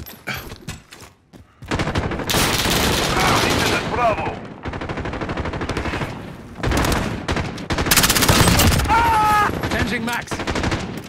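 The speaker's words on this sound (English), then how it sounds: "I'm taking fire! Taking fire!" Sustained automatic gunfire and bursts of shots in Call of Duty: Modern Warfare, loud and close, in long dense volleys separated by brief lulls, with shouted voices mixed in.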